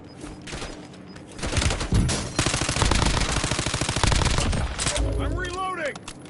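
Rapid automatic gunfire in the Call of Duty: Warzone battle royale, loud sustained bursts of shots with a brief quieter lead-in and a tailing echo near the end.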